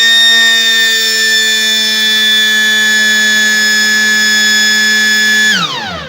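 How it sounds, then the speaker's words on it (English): A loud, steady electronic alarm tone with bright harmonics sounds continuously from an automatic generator changeover as mains power returns, then cuts off abruptly near the end. "The alarm will give you signal that they have brought light"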